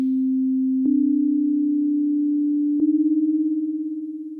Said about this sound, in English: we've got just the pure sine wave